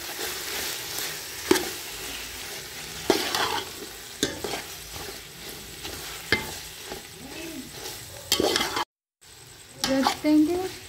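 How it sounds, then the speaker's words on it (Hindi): Masala stirred into frying karela (bitter gourd) in a pan: a steady sizzle with repeated scraping strokes of the spoon close up, and a voice talking over it, with a brief gap near the end. "मसाला जो हम हर डिश में यूज़ करते हैं 1 चम्मच, अच्छी तरह मिक्स करेंगे।"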